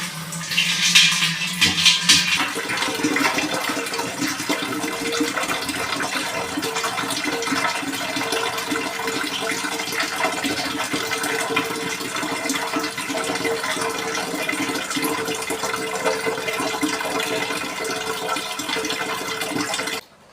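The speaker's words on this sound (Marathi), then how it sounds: "बाकी आता हांडा घासून स्वच्छ धुवून भरते" A metal household water pot is scrubbed, rinsed and filled, with a loud, steady rush and splash of pouring water running near the microphone for about twenty seconds before stopping abruptly.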